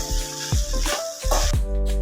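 Okra (bhindi) frying in a pan, giving off loud close bursts of hissing sizzle that flare and fade several times over a couple of seconds.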